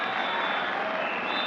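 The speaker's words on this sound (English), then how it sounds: "you got lots of applause from the excited Indians" Excited Indian fans in a cricket crowd at the Toronto Cricket, Skating and Curling Club applaud steadily, a dense, even wash of clapping and crowd noise holding at the same level throughout.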